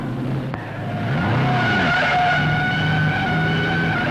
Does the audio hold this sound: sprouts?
no